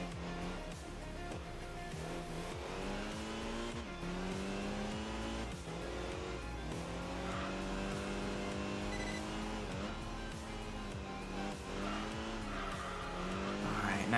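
Racing cars, a Mazda RX-7 and a Mitsubishi Evo, in the Enthusia Professional Racing video game: engines rev and climb through repeated gear changes, with tire squeal and a continuous loud drone throughout.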